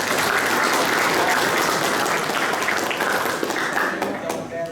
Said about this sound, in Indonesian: Tepuk tangan lagi untuk Bapak.